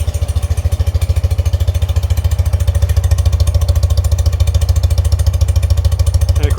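A 1978 BMW R 80/7 boxer-twin motorcycle engine idles just under 1,000 RPM, a steady, loud, even low throb of rapid exhaust pulses holding a constant rhythm throughout.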